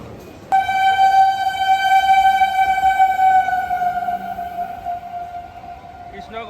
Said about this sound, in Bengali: কৃষ্ণনগর দিয়ে থ্রু ট্রেন পাস করে যাচ্ছে